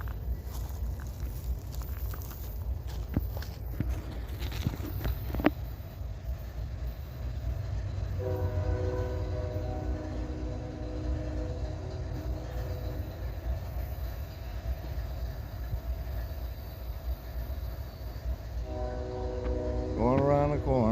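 A freight train with its locomotive rumbles through Abbeville, its horn sounding in steady blasts midway and again near the end over continuous rolling noise, with some clanks and footsteps early on.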